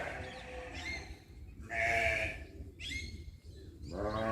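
Sheep at an animal farm bleat several times, close and clear, with wavering calls separated by short pauses and low background rumble.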